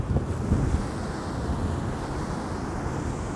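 Ocean surf rolling and crashing along a stormy shore while strong gusts buffet the microphone, a steady loud roar with low rumbling wash and no voices.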